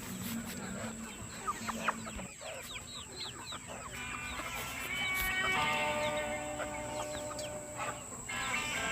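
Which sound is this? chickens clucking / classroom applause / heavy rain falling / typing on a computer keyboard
chickens clucking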